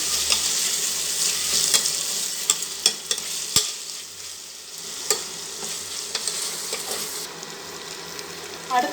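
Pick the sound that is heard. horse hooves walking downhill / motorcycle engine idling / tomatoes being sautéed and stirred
tomatoes being sautéed and stirred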